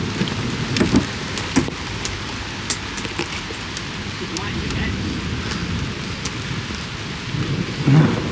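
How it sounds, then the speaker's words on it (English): Steady heavy rain patters on a surface through a thunderstorm in Bologna, Italy, with rumbling thunder rolling underneath and occasional sharper drops, loud and continuous throughout. "it is thunder and lightning."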